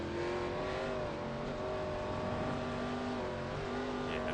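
Race cars roar around an oval track in a steady, continuous engine drone with rising and falling tones as the field laps, loud and sustained without talking.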